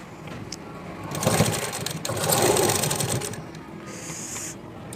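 A sewing machine stitches the side joint of a blouse, running in two bursts of steady rapid whirring, with a brief high whine near the end.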